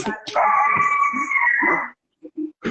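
A human voice imitates a dog's long wavering howl, followed by a few short yips, close and fairly loud.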